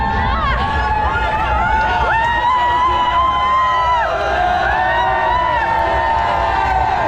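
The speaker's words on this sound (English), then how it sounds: "running through the crowds of supporters that helped us through the last kilometers of the race" Supporters line the course at the Rotterdam Marathon, a steady crowd roar of cheers and whistles sustained throughout, close and loud, with scattered shouting voices over dense babble.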